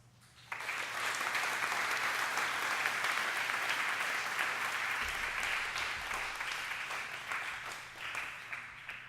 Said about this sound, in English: We deserve to give ourselves one big round of applause.